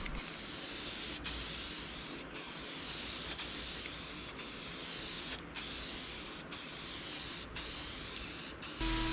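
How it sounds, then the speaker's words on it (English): Continuous hissing spray of shellac from an aerosol can, nearly unbroken, with brief gaps every second or so as the nozzle is released and pressed again. "I spray shellac on the entire piece"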